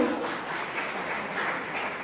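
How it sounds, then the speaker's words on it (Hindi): Applause from an audience at a teacher-trainee farewell program, a steady, even wash of clapping that stays fairly faint and distant throughout, with no voices over it. "कार्यक्रम पसंद आ रहा हो तो जोरदार तालियां बजा दो"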